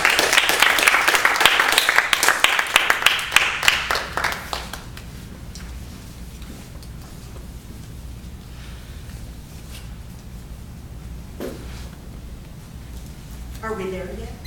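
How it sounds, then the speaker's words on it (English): Club meeting audience claps for about five seconds, a brisk close patter that fades out, followed by quiet room tone and a speaker starting to talk near the end. "Please welcome, with a round of applause, Ms. Toni G."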